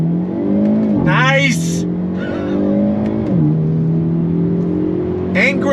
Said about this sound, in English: First gear from a slow roll. On throttle, here we go.